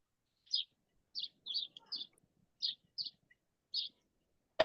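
Bird in a village giving short high chirps, about seven separate calls at an uneven pace, fairly near and clear against a quiet background with faint murmuring.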